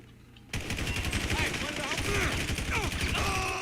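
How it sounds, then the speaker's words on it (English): Automatic gunfire in GTA 5 Online as a full magazine is emptied, a long loud rattle of rapid shots that starts suddenly and keeps going to the end, with game voices mixed in. "Mag dump."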